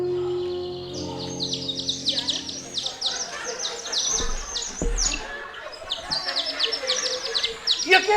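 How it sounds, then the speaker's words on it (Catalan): Several small birds chirp and trill in quick overlapping bursts, bright and fairly close, continuing through the whole stretch over a soft background, with a brief low thump partway and a sustained tone fading early on. "que no sents els ocells com canten"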